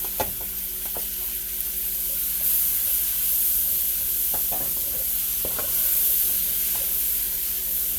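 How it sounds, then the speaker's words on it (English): Onions and garlic saute in a pan for an Italian chicken pasta sauce, a continuous loud sizzle broken by several scraping stirs of a utensil. "I'm going to let those onions get soft, let that garlic marry in"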